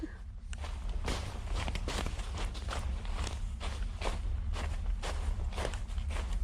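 Rapid, steady footsteps of someone running away at night outdoors near a camp, thudding over a low rumbling background, an even quick rhythm.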